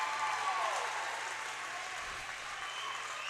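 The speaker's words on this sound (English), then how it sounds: "You can hear the cheer from the crowd." A crowd cheers and applauds at a basketball game in a large indoor gym, a dense wash of clapping and shouts that stays steady and fairly loud.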